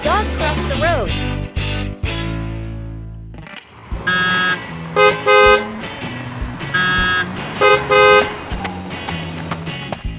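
Busy road traffic in a cartoon, with repeated bright car horn toots and honks over a steady bed of engine and street noise; a voice speaks briefly near the start.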